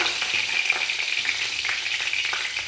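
Bay leaves crackle and sizzle in about four spoons of hot mustard oil in a heated kadai, a dense, close, continuous frying hiss throughout.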